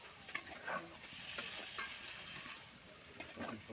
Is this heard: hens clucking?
no